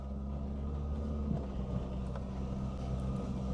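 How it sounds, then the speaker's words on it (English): A worn, rough-running Nissan Micra Mk1 engine drones steadily while the car drives along, a continuous low rumble with some wind noise over it. "And the car doesn't sound too healthy, unfortunately."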